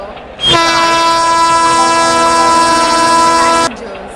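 A train hauled by a WAP4 electric locomotive at Hyderabad station sounds a loud, sustained horn blast of about three seconds, rich in steady harmonics and cutting off sharply, over faint station background.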